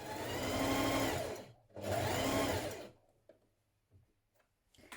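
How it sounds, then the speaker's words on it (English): A sewing machine stitches fabric pocket bags together in two close, steady running bursts with a short pause between them, followed by faint handling clicks. "And now you can stitch them both together"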